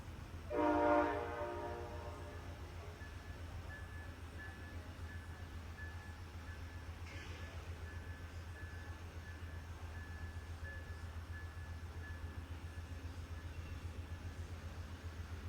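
An Amtrak Lake Shore Limited train at Buffalo sounds a short distant horn blast, followed by a steady low rumble of the passing train heard from afar.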